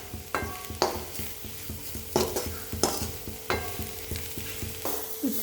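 Spices with chilli powder, garam masala and turmeric sizzle in a hot pan while a utensil stirs and scrapes in a steady rhythm, each stroke giving a sharp clack over the continuous frying hiss, with no talking.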